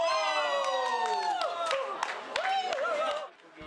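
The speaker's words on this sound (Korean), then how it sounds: "세워진 비석을 맞추는 데 성공하자 환호성을 지릅니다" Foreign volleyball players in Mungyeong, Korea, cheer and shout together after hitting a standing stone marker in a traditional stone-throwing game, a short, lively burst of excited voices.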